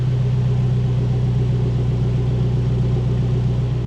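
A 2024 Toyota Tacoma with a 4-cylinder engine and a MagnaFlow exhaust idles with a steady, deep rumble, close and loud throughout with no other sound.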